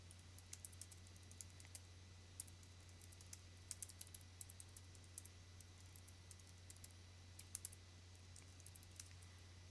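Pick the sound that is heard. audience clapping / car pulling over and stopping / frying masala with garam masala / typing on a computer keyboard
typing on a computer keyboard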